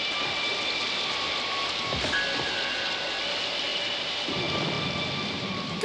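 Heavy rain pours steadily in an animated cartoon storm, with rumbling thunder rolling underneath and a sharper crack partway through, loud and continuous throughout.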